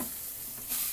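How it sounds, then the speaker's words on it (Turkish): Peppers frying in a pan give a steady, dense sizzle with no voices, swelling briefly louder and brighter near the end. "Aa biberleri kızartacaktım ben bak unuttum."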